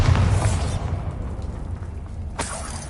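A Bombarda spell explosion in Hogwarts Legacy, a loud, rumbling blast with heavy low-end that fades over a couple of seconds, followed by a sharp crack near the end.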